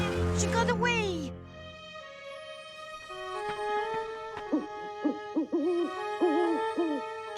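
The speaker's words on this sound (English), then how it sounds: "Just an owl." An owl hoots several times in a quiet night scene at Teller's Point, soft repeated hoots after an opening voice, spaced out and fairly close.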